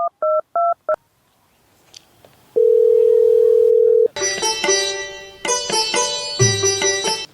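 Short electronic dialing beeps, then a steady dial tone holds for a moment before a loud, warbling ringback-like tone pattern plays in bursts.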